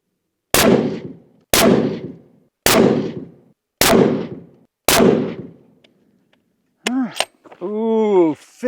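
Five loud, sharp rifle shots from a Tikka T3X Superlite chambered in 7PRC crack out at an even pace, each trailing off in a short echo, followed by brief rustling and a few clicks.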